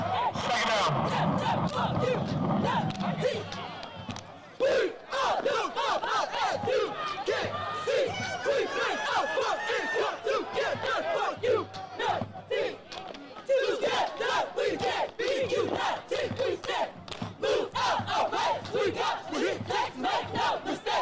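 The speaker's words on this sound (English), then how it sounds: "Fantastic little unity cheer for the" A stadium crowd at a college football game between Johnson C. Smith University and Livingstone College chants and cheers in unison, loud and sustained, with rhythmic shouted bursts and claps rising and falling throughout.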